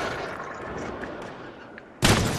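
A Green Goblin bomb goes off in a Spider-Man video game, a single loud, broad burst hitting suddenly after a stretch of low rumbling game noise.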